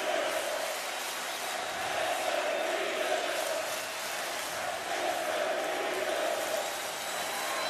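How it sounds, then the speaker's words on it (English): Stadium crowd at a Redskins–Eagles football game in Philadelphia chanting a player's name, a broad, continuous roar with a steady sustained vocal tone rising and falling slightly throughout. "Crowd chanting the name of Jason Peters"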